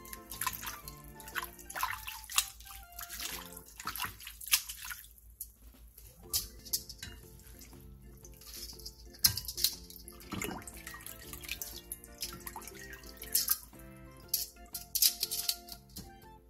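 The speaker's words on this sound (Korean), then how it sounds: "데친 콩나물은 바로 찬물에 헹궈낸 뒤 물기를 충분히 빼놔주세요" Blanched soybean sprouts rinsed in cold water: splashing, dripping and rattling of sprouts in a bowl or colander, close and fairly quiet, in uneven bursts.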